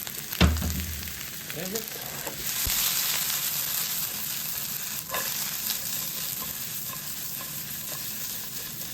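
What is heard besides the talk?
onions frying and being stirred in oil and seasoning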